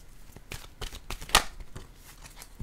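Tarot cards are shuffled and drawn: a series of quick papery riffles and flicks, close and fairly quiet, with one sharper snap partway through.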